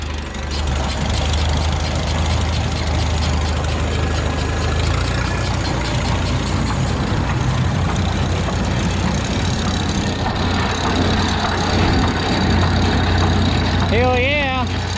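A New Idea 19 manure spreader runs with its diesel-filled gearbox turning, giving a steady, loud mechanical drone and engine rumble driving it. Speech is mixed in near the end.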